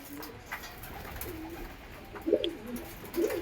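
Pigeons cooing while pecking at brick grit, a few soft low coos at a distance, most noticeable near the end, against quiet background noise.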